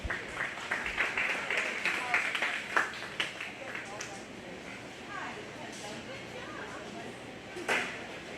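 Scattered applause from the crowd at a county fair 4-H and FFA swine show, sparse claps over a noisy barn-like background with a voice talking underneath.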